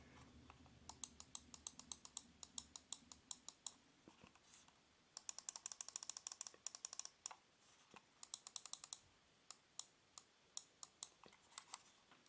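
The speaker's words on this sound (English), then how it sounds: "so you could hear the clicks of the mouse" A Blade Hawks GM-X5 gaming mouse gives light, crisp clicks in quick bursts and spaced runs, close and quiet, with pauses between groups.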